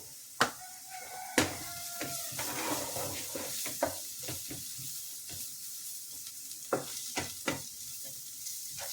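Chili, coriander and turmeric powders frying in a pan, a moderate sizzle under repeated clacks and scrapes of a spoon stirring, close and with no talk.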